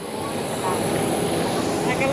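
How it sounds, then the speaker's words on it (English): Airplane at Sakon Nakhon Airport in Thailand, a steady, loud engine roar and whine filling the background outdoors, with people talking over it nearby. "And there's our plane."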